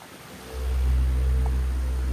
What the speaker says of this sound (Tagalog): So ito yung tunog ng fan natin pagka umaandar.